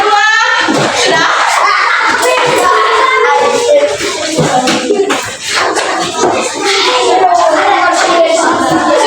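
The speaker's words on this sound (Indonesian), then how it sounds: "Tepuk tangan untuk kelompok 1." Classroom applause for a group of students after their presentation: a dense, steady patter of many hands clapping, with children's voices chattering underneath throughout.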